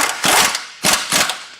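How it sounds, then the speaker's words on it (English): A ratchet clicks rapidly in two quick bursts while tightening the outer tie rod end on a car's suspension, loud and close with short pauses between strokes. "Now we're going to tighten up this outer tie rod end."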